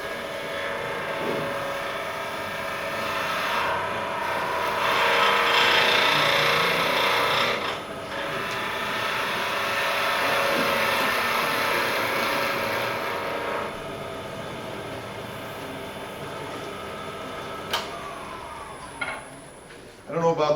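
Sandpaper rubbing on wood turning on a lathe, a steady rasping hiss with the lathe's continuous whir, rising and easing in long sweeps for about twenty seconds before a few sharper knocks near the end.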